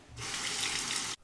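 Water runs steadily from a tap for about a second to rinse during a beard lineup, a close, even splashing rush that starts and stops abruptly.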